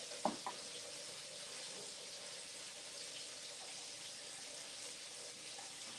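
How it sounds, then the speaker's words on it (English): Capers rinsed under running tap water in a home kitchen, a steady hiss of flowing water into a sink with a brief clatter near the start. "So I'm gonna rinse these little capers off."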